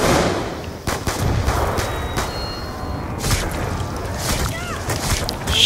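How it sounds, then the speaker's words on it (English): Rapid bursts of video-game gunfire from Black Ops 2 Die Rise, with repeated sharp cracks and booms spread across the clip alongside steady game background noise. "I let off a whole clip and I missed every bullet"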